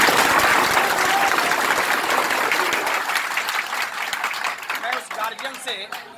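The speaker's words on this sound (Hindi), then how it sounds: "मैं चाहूंगा कि एक बार जोरदार ताली हो जाए सबकी" Loud, dense applause from an audience, steady at first and then thinning out as the clapping tapers off.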